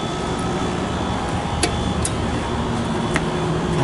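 A ventilation fan runs as a steady broadband whoosh beside hydraulic KONE elevators in a Super Target store in the SODO district, with a constant hum and faint thin tones and occasional soft clicks above it.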